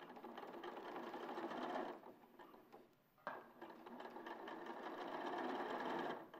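Sewing machine stitching a fabric seam in steady, close running bursts, with a brief pause partway through before the needle starts up again.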